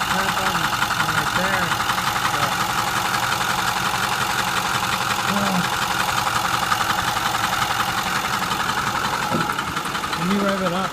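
A 2008 Ford F250 Super Duty with the 6.4 diesel idles with a loud, close, steady rumble and a knocking tap running through it, while a voice talks briefly over it.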